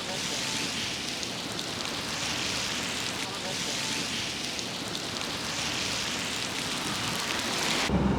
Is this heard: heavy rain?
yes